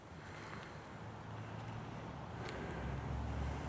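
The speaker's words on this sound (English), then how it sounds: "a car decides they're going to come through Corvette Tunnel" A car approaches through the Corvette Tunnel at night, a low engine and road rumble that swells steadily louder across the clip with no voices.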